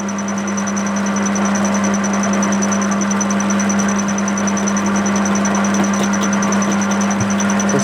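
A lathe machining a fractional-horsepower motor end shield runs steadily with a dense metallic whir and a constant low hum, the cutter occasionally catching with faint scraping ticks.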